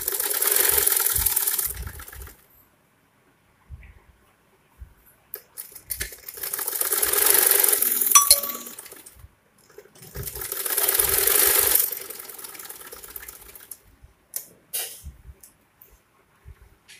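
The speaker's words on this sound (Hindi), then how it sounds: "इस तरह से करके हमें इसमें सिलाई लगानी है" Sewing machine stitching a folded fabric strap, heard as two sustained whirring runs of a few seconds each, with short pauses and small handling clicks between, close by and with no talk.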